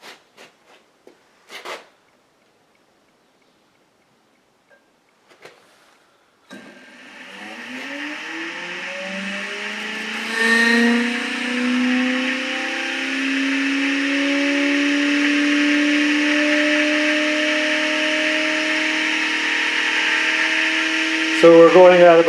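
Newly assembled triple stack DualPole motor energizer starting up after a few quiet clicks, its whine rising in pitch then settling into a steady loud hum over many seconds, close and continuous, with no talk over it.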